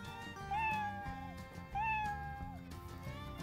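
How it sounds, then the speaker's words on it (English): A toy's recorded cat meows twice, each a clear rising-then-falling electronic meow over a bouncy, looping backing tune from a preschool alphabet phonics puzzle. "C is for cat."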